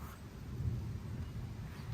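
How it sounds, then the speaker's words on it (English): Low distant rumble of thunder during a thunderstorm, a brief soft roll in the bass with faint wind noise on the microphone. "There's thunder coming from all four directions."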